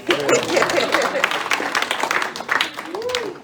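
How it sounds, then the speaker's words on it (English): Applause from an audience at a rap, hip-hop and poetry evening, moderately loud scattered clapping with some cheering voices mixed in, continuing for a few seconds. "please clap it up for yourself"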